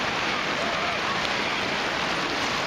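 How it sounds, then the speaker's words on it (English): Rain falls in a dense, steady hiss of drops hitting surfaces, loud and unbroken throughout, with no voices over it. "but here comes the rain"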